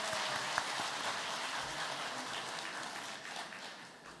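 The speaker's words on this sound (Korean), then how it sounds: "우리 감사의 박수 한번 드리도록 하겠습니다." A church congregation claps in thanks as the pastor leaves, a soft, steady patter of many hands heard from a distance, quiet and even, fading slightly at the end.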